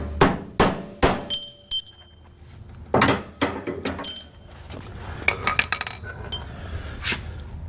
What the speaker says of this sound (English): We're going to have to drive those bolts out because they're rusted in.